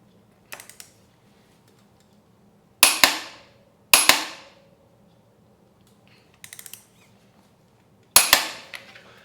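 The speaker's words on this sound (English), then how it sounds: "so then we just put the nut on, and this torque spec is 81." A torque wrench tightens the axle nut on a Yamaha YZ250FX dirt bike, giving five sharp metallic clicks spaced a second or two apart. Each click rings briefly and is loud and close, with quiet between them.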